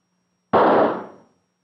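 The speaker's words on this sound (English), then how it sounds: "When that firecracker went off, it made quite a fuss, didn't it?" A single firecracker goes off in a 1950s educational film about chemical and nuclear energy: one sharp, loud bang that decays in a short hissing tail over about three quarters of a second, after near silence.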